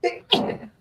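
A person sneezes close to the microphone during a live online chat, two quick explosive bursts, the second louder and trailing off briefly.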